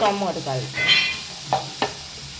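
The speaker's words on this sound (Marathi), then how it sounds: "कांदो आतां बरें सॉटे करता" Onion sautés in a pan for beef chilli fry, a soft hiss of frying with two sharp clicks of stirring, after a short stretch of a voice at the start.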